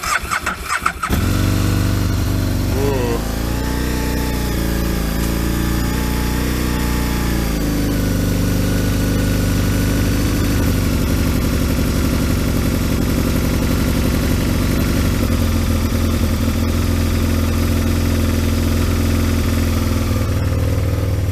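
A cold Kawasaki ZX12R motorcycle cranks over sluggishly on a weak battery, catches, and settles into a loud, steady, close-up idle that runs continuously without any voices.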